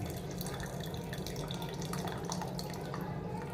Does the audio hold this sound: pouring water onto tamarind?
yes